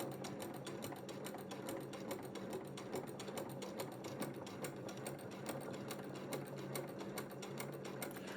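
A sewing machine stitches a quilt-as-you-go block in a fast, even, continuous run of needle strokes, fairly quiet and close.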